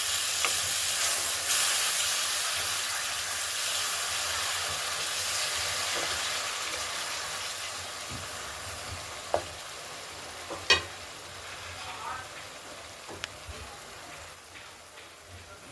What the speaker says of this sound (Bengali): জল দিয়ে মশলাটাকে ভালো করে কষিয়ে নিচ্ছি।